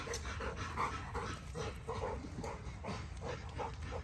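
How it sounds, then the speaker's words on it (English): American Bully dog panting in quick rhythmic bursts, mixed with soft whimpers and a faint yip, close by and moderately quiet, with no talking. "You got my other crazy dog."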